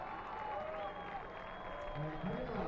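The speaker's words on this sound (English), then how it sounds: "As you can hear the applause and the approval he's getting from the crowd." A soccer crowd at a Spokane Velocity match applauds a player checking in as a substitute, with soft, distant clapping running steadily beneath a commentator's voice.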